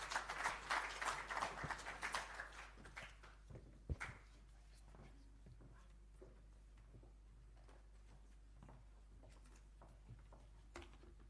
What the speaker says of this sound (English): If you could please give my panelists a big round of applause.